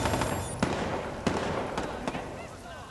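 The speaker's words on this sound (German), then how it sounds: "Boah, schmeißen jetzt mit Granaten oder was?" Grenade blasts in the video game Watch Dogs 2: a few dull, distant-sounding pops and thuds spaced apart over steady game noise, moderately loud.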